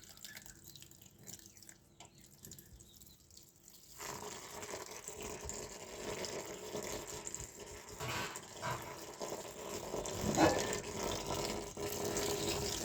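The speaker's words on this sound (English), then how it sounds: "The water is running slow" Water pours from a tap into a sink while coconut milk is squeezed out for homemade coconut oil, a steady splashing rush that grows louder after a few seconds.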